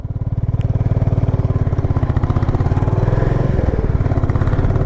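A Royal Enfield Bullet 350 Standard runs steadily with a loud, close, continuous thumping single-cylinder beat, holding an even rhythm with no voices present.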